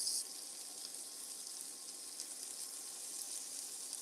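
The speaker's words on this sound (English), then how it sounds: "because it's got this little fat cap on it, it will sizzle up" Soft, steady sizzling of fat-capped meat frying in a pan, a faint continuous crackle with no voices.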